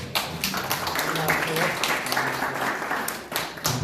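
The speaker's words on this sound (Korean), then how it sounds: "박수 한번 주시죠." An audience at a launch ceremony for a Gwangju citizens' group claps briskly, with sharp individual claps standing out among the crowd. Voices talk over the applause throughout.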